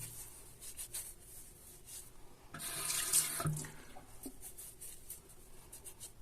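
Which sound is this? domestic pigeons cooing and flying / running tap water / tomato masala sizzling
running tap water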